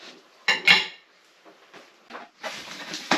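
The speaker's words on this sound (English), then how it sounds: "You're putting the knife now to one side because it is extremely sharp." Sharp knife set down beside a boxed vintage Palitoy Action Force AF-5 toy, a couple of close clinking metallic taps followed by faint rustling handling.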